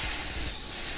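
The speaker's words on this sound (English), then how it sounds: "if I just need to spray a little bit of blue, I don't have to go and get all these chemicals out" Airbrush spraying water-based blue candy paint onto a helicopter crewman mask, a steady close airy hiss held without break for about a second, no voices.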